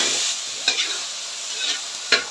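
Tomatoes sizzle loudly in a frying pan in a steady hiss, broken by a few sharp scrapes of a stirring utensil against the pan, close by, with no voices.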